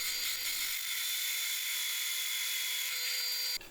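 A hand drill bores a hole in a wooden slider support for a tool cabinet workstation, its steady high whine close and continuous for about three seconds before cutting off.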